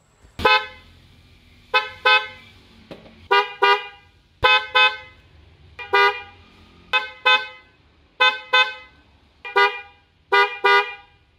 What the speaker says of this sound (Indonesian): klakson Flosser ini dia memiliki karakter suara yang nadanya lebih tinggi